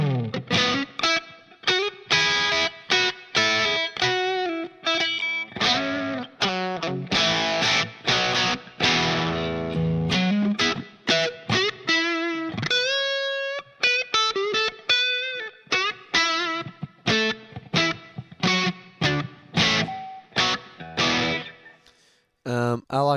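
A Line 6 POD HD500 set to its Vox AC-15 Class A amp model with sag turned to 100 carries an electric guitar playing a steady run of lightly driven chords and single notes, up close and continuous.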